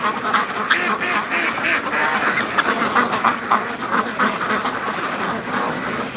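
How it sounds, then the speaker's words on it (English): A flock of ducks quacks steadily and busily near a creek mouth blocked by ice, with brant geese present nearby. The calls are fairly close and continuous, blending into a dense, overlapping chatter with faint outdoor noise beneath. "Come on, duckies, let's go."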